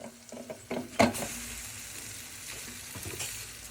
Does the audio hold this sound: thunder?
no